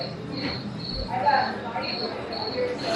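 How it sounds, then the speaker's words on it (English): Crickets chirp in repeated pulsing bursts against a soft background in a bayou-themed store at Universal Orlando, with no one talking. "Crickets, sunken pirate ships"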